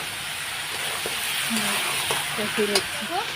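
Turmeric and spices stir-fried in oil in a home pan for mixed vegetable curry, a steady soft sizzle with occasional spatula scrapes, fairly close, while someone speaks over it.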